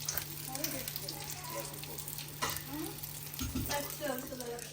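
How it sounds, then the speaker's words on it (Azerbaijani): Food fries in a pan with a continuous, fairly loud sizzle, while voices talk intermittently over it in a home kitchen. "Birinci qızartırım."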